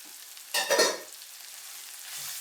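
Brinjal bharta gets stirred in a pan, one brief scraping, sizzling stroke standing out near the start against a quiet background, with a faint low sound near the end.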